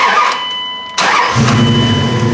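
A Dodge Ram engine is cranked from the ignition switch and catches with a sudden burst near one second, then runs on as a loud, rough, close-up rumble.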